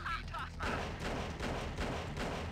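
Heavy weapon fire in Command & Conquer: Red Alert, a series of booming, thudding shots about every half second to second, loud and close with rumbling low end.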